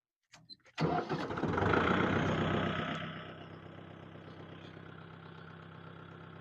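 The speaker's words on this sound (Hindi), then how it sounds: "अब हम गाड़ी को दोबारा स्टार्ट करते हैं।" A Kubota MU5502 tractor's diesel engine cranks briefly after a few clicks, catches with a loud roar, then settles into a steady, quieter idle.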